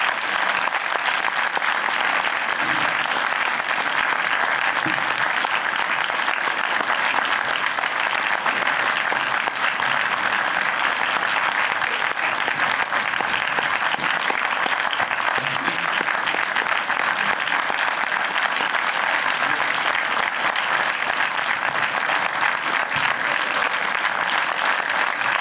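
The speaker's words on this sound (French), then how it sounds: "demander de garder vos applaudissements pour Dominique Moll, François Damiens et Vincent Maclay," A cinema audience applauds warmly for director Dominik Moll and actors François Damiens and Vincent Macaigne, a dense, sustained clapping that holds steady at full strength throughout.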